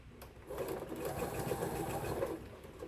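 A sewing machine stitching a quarter-inch seam on a flowering snowball quilt block, running steadily and close with a fast, even mechanical whir for a few seconds, with no speech.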